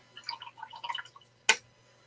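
A watercolor paintbrush swished in a cup of water during card-making with pearlescent watercolors, heard as a brief burst of soft splashy dabbing, then a single sharp tap of the brush against the container.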